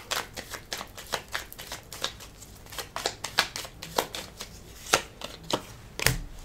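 Oracle cards are shuffled and gathered by hand, giving a close series of crisp riffling flutters and taps in an uneven rhythm, ending with a sharper snap as the deck is squared, no voices.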